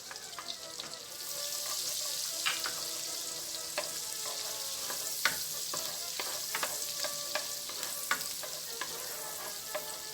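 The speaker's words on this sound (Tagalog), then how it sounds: "idagdag at isutay natin ang ating garlic" Garlic sautés in a pan with a bright, continuous sizzle of frying, punctuated by scattered clinks and scrapes of a utensil stirring, close up and without talk.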